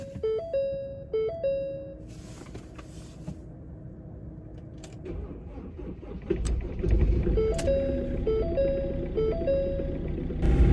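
An old, broken Ford Transit van sits through a few electronic beeping tones, then its engine cranks and catches into a loud, rumbling idle that carries on to the end.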